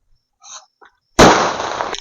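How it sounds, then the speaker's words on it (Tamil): A Lakshmi vedi Diwali firecracker, tossed by hand, goes off after a few faint rustles. The blast is one sudden loud, close bang that fades out as a roaring tail. "இந்த லட்சுமி வெடி கையில் பிடிச்சு போடலாம்."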